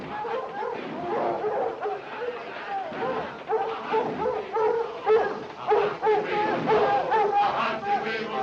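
Several dogs bark, yip and whimper inside a railway car in a 1942 film scene, a steady noisy chorus close by mixed with raised voices.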